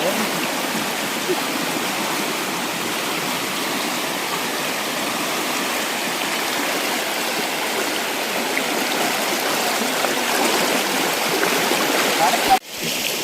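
Floodwater rushes across farm fields in a steady, loud roar of flowing water that holds constant for a long stretch, ending in a sharp brief knock.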